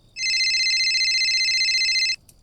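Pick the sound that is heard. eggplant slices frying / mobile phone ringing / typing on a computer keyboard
mobile phone ringing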